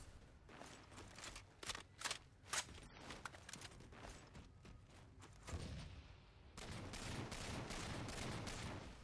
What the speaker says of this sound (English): I hear some gunshots going on